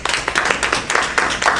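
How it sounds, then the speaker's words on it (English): A Toastmasters meeting audience applauding themselves, a short burst of brisk, close hand claps from a small group, without voices. "I would like for you guys to please applaud yourselves for coming here tonight"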